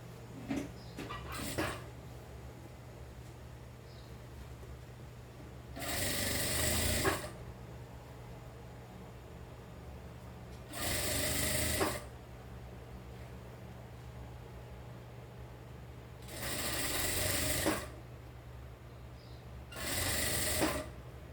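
A sewing machine stitches a jacket lining in four separate short bursts, each a dense rapid whir with quiet pauses between runs.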